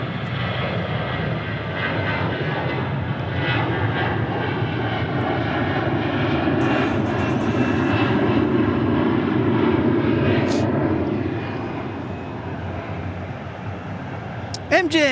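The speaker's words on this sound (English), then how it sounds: "Frontier taking off A321." A Frontier Airbus A321 takes off, its engines producing a loud, steady jet roar that swells through the middle and then eases toward the end, with some voices in the background.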